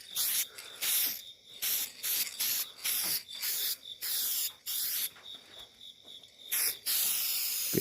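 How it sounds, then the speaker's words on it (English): An aerosol can sprays in repeated hissing bursts of a second or so each, separated by short gaps, fairly close and with no talking, while working on a transmission pan gasket of a 1979 Chevy C10 with a TH350 transmission. "Just spray her real good there."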